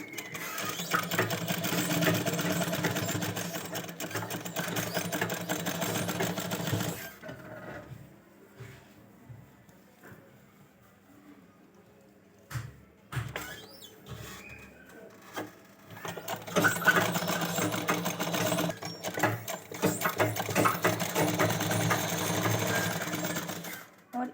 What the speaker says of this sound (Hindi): इस तरह से हमें सिलाई लेनी है।